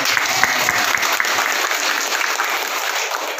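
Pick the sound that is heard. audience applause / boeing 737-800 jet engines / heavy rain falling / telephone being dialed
audience applause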